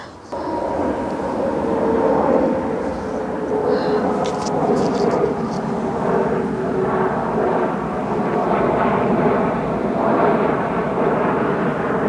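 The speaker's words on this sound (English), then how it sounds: "Ooh, the airplane!" An airplane passes close overhead with a loud, sustained roar and rumble that holds steady for about twelve seconds, a few faint sounds over it.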